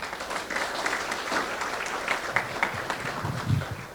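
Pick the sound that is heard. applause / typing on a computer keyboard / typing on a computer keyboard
applause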